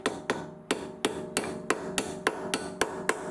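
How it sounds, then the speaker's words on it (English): A copper hammer taps metal in a steady rhythm on a 2011 Audi A4 Avant's front upper suspension arm, about a dozen sharp, evenly spaced strikes at close range with ringing decay between them. "So I'm just using a copper hammer there."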